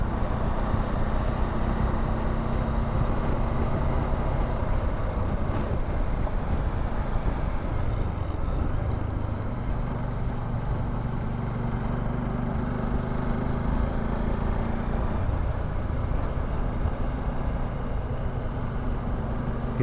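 Steady motorbike engine drone on a road during a Delhi to Badrinath trip, continuous and close, with constant wind buffeting the microphone throughout.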